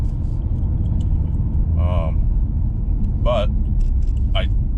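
BMW M2 engine rumbling steadily while driving through a canyon road, a constant low drone throughout, with brief speech bursts over it.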